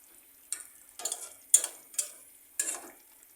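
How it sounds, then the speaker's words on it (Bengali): Snakehead fish being stirred in a pan over raised heat, five or six scraping strokes at an uneven rhythm over a soft sizzle, close up and without talking. "চুলার আঁচটা একটু বাড়িয়ে মাছটাকে আবার একটু নাড়াচাড়া করে ভালো মতো মিশিয়ে দিব"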